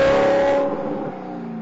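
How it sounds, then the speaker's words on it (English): Alfa Romeo 8C supercar engine revving hard through its exhaust, a loud, raw, crackling roar close by that rises at the start and then settles into a steadier, slightly quieter drone. "where the Maserati has a cultured exhaust note, the 8C sounds like an accident in a fireworks"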